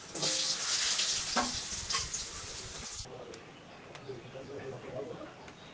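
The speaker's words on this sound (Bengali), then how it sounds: "এবার জল দিয়ে দেবো।" Water is poured into a pan of frying spices, giving a loud hissing surge that fades after a few seconds into a softer simmering bubble, close by with no talk.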